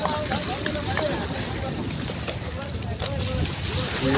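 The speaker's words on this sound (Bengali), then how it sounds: "দেখুন নদীতে অনেক ঢেউ এবং স্রোত, অনেক বাতাস।" Strong wind and choppy waves on the Meghna river at a ferry ghat make a continuous rushing, buffeting roar with splashing water, heard close and loud under someone talking.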